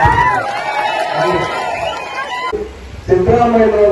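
Large crowd at a Congress political rally in Karnataka cheering and shouting together, with overlapping voices and raised chant-like calls swelling near the end.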